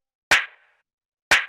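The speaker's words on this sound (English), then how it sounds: "we have that really punchy clap" Two crisp, punchy clap-sample hits for a house music beat, each a sharp dry snap with a brief bright tail, spaced about a second apart with silence between.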